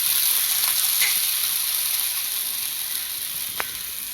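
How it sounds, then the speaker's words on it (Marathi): Water sprinkled onto a hot iron tawa for dosa, giving a loud, steady hiss and sizzle that slowly fades, with a faint clink of a utensil near the end. "ह्याच्यावर टाकायचं थोडंसं पाणी"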